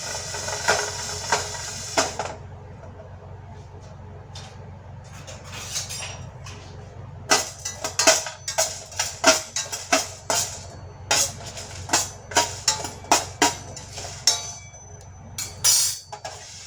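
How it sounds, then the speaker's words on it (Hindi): Dry spices roasting in a pan on a gas stove, with a low steady hiss under a run of sharp, irregular clinks and taps that grow busier in the second half, close and fairly quiet. "अब इनको हल्का सा हम भून लेते हैं"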